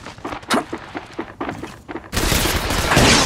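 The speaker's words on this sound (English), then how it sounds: "Shots fired at me." Heavy gunfire from a video game battle: a rapid, uneven run of separate loud shots, then a dense, continuous volley that fills the last second, with no voices over it.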